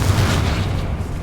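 The Confringo spell going off in the video game Hogwarts Legacy, a loud, dense blast of booming low rumble and fiery burst that fills the whole short moment.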